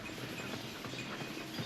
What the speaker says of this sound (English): The carriage stopped at last in a courtyard.